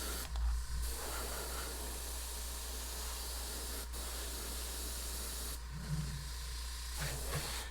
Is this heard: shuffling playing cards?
no